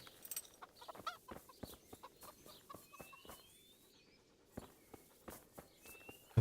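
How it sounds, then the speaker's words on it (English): Chickens cluck softly in Kingdom Come: Deliverance amid scattered footsteps and light thuds, the clucks intermittent and faint against a quiet outdoor background. "Well, the chickens are back"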